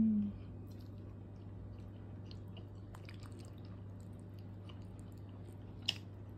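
Someone chews beshbarmak dough close up, with soft wet, squishy bites over a steady low hum and one brief sharp click near the end.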